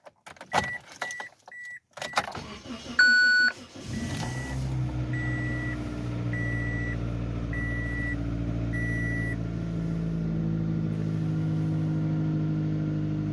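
A 2006 Pontiac Vibe cold starting at 7°F: keys jingle and a dashboard chime beeps repeatedly, the starter cranks briefly, then the engine catches and settles into a steady close idle while the chime keeps beeping.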